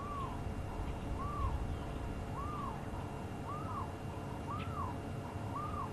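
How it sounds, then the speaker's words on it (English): A barred owl gives a run of repeated rising-and-falling calls at a steady pace, moderately distant, over a soft background hiss. "I can hear a barred owl calling behind us now"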